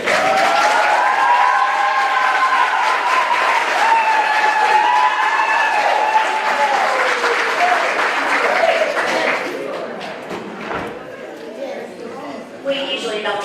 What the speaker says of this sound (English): We usually don't get that much applause for a reason.